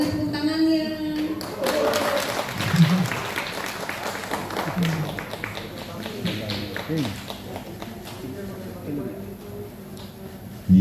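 Applause for Anies Baswedan at a cultural ceremony in Indonesia, a burst of crowd clapping that swells early and then thins out beneath ongoing talk and room noise.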